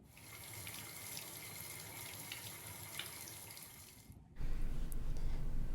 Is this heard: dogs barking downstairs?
no